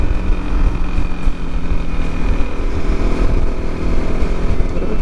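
A Honda CRF250L dual-sport motorcycle engine labours steadily up a hill road near Bella Coola, a loud, continuous close-up drone with wind rush and no voices.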